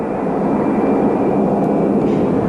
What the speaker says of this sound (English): When the B-52 finally began to taxi toward the end of the runway